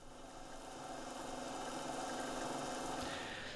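Mechanical transport noise from the Tape Mello-Fi tape-emulation plugin: a steady, broadband motor-like whir and hum with faint rhythmic ticking, continuous and even throughout, with no voices.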